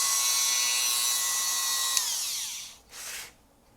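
A rotary tool drills into the body of an LP-style DIY kit guitar, giving a loud, steady high-pitched whine like a dentist's drill that drops in pitch as it slows and stops, followed by a brief short burst.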